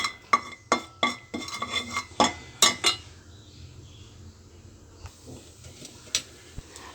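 Chili powder sautés in oil in a pan for cauliflower gravy. A quick run of sharp metallic clinks of a spoon against the pan lasts about three seconds, then a quiet low sizzle continues with a few isolated taps.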